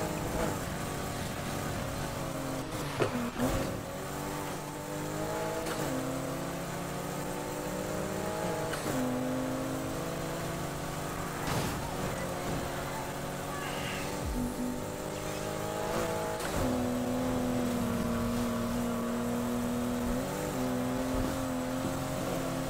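Race cars in the video game Need for Speed Heat, including a Lamborghini Huracán with BMW, Mercedes and Porsche rivals nearby, roar continuously for over twenty seconds, the engine pitch climbing and dropping through gear changes under constant road noise.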